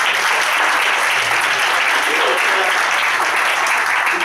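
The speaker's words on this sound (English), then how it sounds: "let's give a hand clap for Pastor Ray." Steady, dense applause from an audience at a church anniversary special event, sustained at an even, loud level throughout with a faint murmur of voices underneath.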